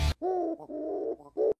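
A pigeon coos at a train station: a few close, clear, throaty coos in a short rolling series, preceded by a brief noisy burst.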